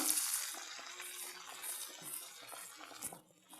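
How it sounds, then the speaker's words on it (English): Tadka being poured into palak dal (spinach dal): a bright, crackling sizzle that starts loud and slowly fades over a few seconds, with small pops scattered throughout. "So the dal looks done and it's time to add the tadka."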